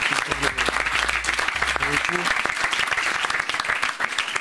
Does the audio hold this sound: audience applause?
yes